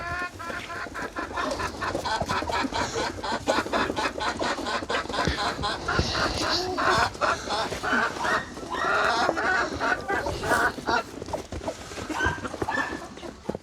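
A village flock of about a hundred hens in Mokra clucks continuously for the whole stretch, a busy overlapping chorus of near and mid-distance calls with a few sharper squawks.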